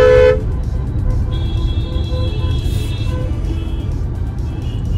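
Heavy traffic at Sikandar Bagh crossing in Lucknow, a loud constant rumble of engines near by with a car horn toot at the start and faint honks further off.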